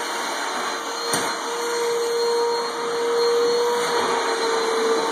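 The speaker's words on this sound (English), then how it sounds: "Vacuuming all the corners." A vacuum cleaner runs steadily on carpet as it works into the corners, a loud continuous whine with a brief knock near the start and no talking.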